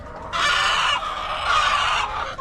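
Chickens in a coop let out a loud, close burst of clucking and squawking that runs almost continuously for about two seconds.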